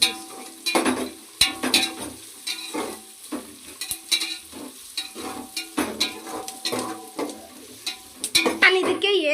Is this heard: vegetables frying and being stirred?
yes